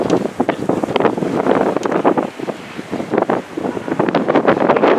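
Gusty wind buffets the microphone on the Blackpool seafront, a loud, rough, continuous roar rising and falling in irregular surges with no voices.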